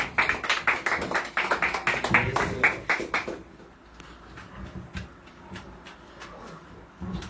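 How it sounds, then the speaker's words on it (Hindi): A church congregation at a prayer service at Peace Chapel AOG Church in Sigatoka claps together in a loud, rhythmic burst that breaks into scattered, fading claps, with no voices over it. "क्यों ना एक जोरदार ताली प्रभु यीशु मसीह के लिए हम बजाएं।"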